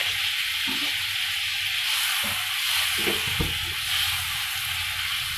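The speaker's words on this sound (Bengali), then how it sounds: "এটা গলুক। বাটারটা গলে গেছে।" A spoonful of butter melting in a hot kadai, giving a steady close sizzle with a few soft knocks and clinks of utensils, and no voices.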